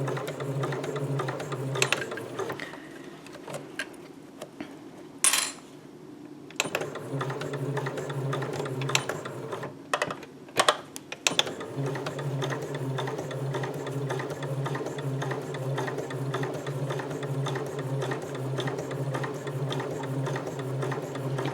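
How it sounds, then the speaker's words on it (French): A sewing machine stitches fabric for a round bag, running in close, loud bursts with a steady mechanical hum, pausing for a few seconds with small clicks and handling noises, then resuming and sewing on continuously. "Et on coud sur toute la longueur de l'ouverture."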